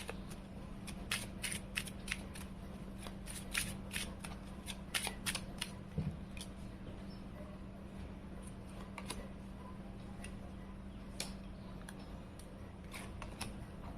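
Tarot cards being shuffled and drawn, heard as quick bursts of crisp riffling and flicking in the first half, then sparser snaps and slides of single cards over a low steady hum, close but quiet.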